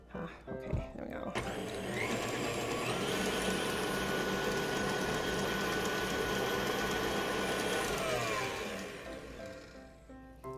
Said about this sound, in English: We'll make sure everything's well blended.